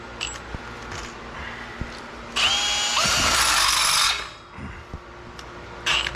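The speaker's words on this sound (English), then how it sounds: "see if he can snap off a drill bit doing it" A power drill drives into material during work on a 1961 Cadillac 390 engine, one loud whirring burst of about a second and a half, with scattered clicks and handling noises before and after.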